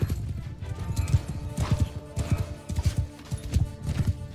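Hooves clatter in a quick, uneven galloping rhythm in the medieval combat game Mount & Blade 2: Bannerlord, with battle noise behind and a faint horse whinny.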